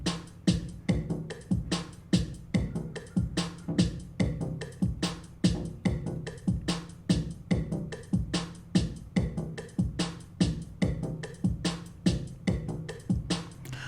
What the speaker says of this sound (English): Now this is your flex bass right here.